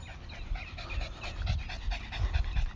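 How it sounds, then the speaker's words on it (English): A dog pants rapidly and steadily close by, a continuous rhythmic breathy huffing with no speech. "This dog chasing after my damn dog."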